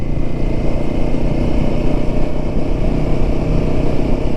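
Group of Royal Enfield motorcycles riding in single file on a Sunday run from Purulia to Bagmundi, engines droning in a steady, loud, continuous rumble close by with no break.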